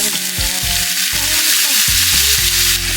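Avocado oil and soy sauce sizzling in a pan for a silken tofu sauce, a loud steady hiss of frying throughout with music playing underneath.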